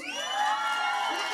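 A live comedy audience in Lima cheers and whoops in one brief, sustained swell of voices, close and fairly loud, with no speech on top.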